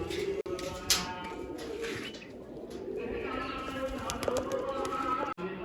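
Pigeons coo softly at a backyard loft, low murmuring calls under steady ambient noise with a brief flutter near the start and light background voices.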